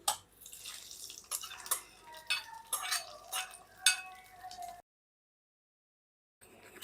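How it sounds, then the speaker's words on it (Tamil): A spoon stirs hot tempering into cooked rice for curd rice, giving a run of wet scraping and clinking strokes with small splashes. The sound stops near the end, then a faint bit of sound returns. "நம்ம சாதத்தெல்லாம் தாளிப்பா கலந்துக்கலாம்"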